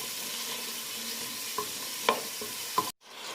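Onion frying in oil for Moroccan cooking, a continuous close sizzle broken by a few sharp taps of a spoon against the pan before it cuts off abruptly.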